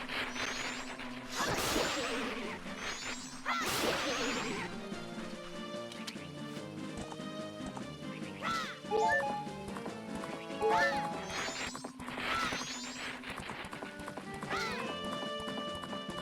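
Horse galloping in The Legend of Zelda: Majora's Mask, with repeated hoof clip-clops, whooshes and occasional neighs layered over steady game music, fairly loud throughout.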